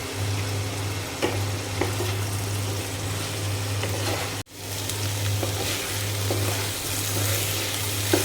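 Beans and turmeric-seasoned small fish curry sizzling steadily in a pan, a continuous close frying crackle with a low hum beneath and occasional stirring clatter, briefly cut once midway.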